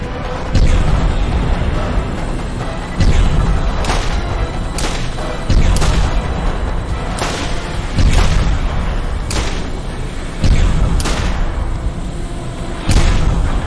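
Divine Wind claptraps in Borderlands detonate over and over, heavy booming blasts landing about every two seconds under steady gunfire and game noise.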